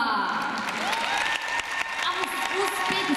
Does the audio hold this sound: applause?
yes